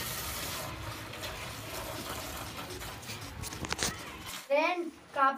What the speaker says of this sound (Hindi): पानी को मैं भर लेती हूँ कपड़ा मतलब पर्दा खंगारने के लिए